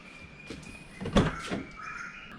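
A car is unlocked and its door opened, with a short beep tone followed by a sharp latch click and the door swinging open, close and fairly loud.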